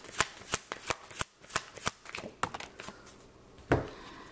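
A deck of tarot cards being shuffled close up, a run of quick crisp riffling slaps and flutters in an uneven rhythm, ending with one louder snap, with no talking.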